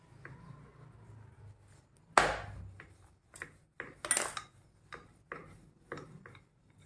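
Kasuri methi khari dough is rolled out on a board, giving scattered knocks and clicks, a few sharp and loud and others faint, spread unevenly over several seconds.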